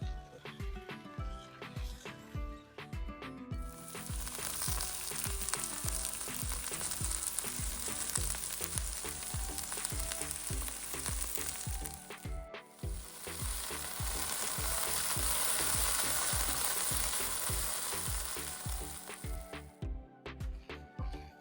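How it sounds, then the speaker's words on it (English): Okra frying in a pan for okra masala, stirred steadily: loud, continuous close sizzling with repeated scraping stir strokes, briefly dropping out once midway before the crackle resumes. "Just stir it for 5 to 6 minutes to make it crispier, and also the sliminess will go away."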